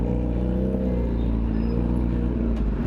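A Kawasaki ZX-10R motorcycle engine rumbles close by in Bangalore traffic, a steady low droning idle with a slight rise near the end and no talk over it.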